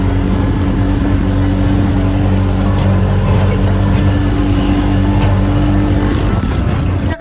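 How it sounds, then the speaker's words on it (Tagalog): Loud, steady engine drone and rattling of a motorized tricycle ride on a bumpy road toward A-Farm in Antipolo, continuous and close throughout with no talk. "Nakasakay na kami ng tricycle and super saya namin kasi malapit na kami sa A-Farm."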